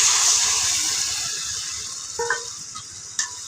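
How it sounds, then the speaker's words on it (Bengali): Water goes into a pan of frying spices, onion, cinnamon and bay leaf for duck curry, a loud hissing sizzle that slowly fades, followed by a few close clinks and stirring taps. "দিয়ে দিব হালকা একটু পানি।"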